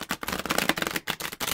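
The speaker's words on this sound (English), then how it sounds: "I just want to make sure that we have, wow, a good shuffle going on" Brisk riffle shuffles of a deck of cards, quick fluttering bursts separated by short pauses, close up with no voices.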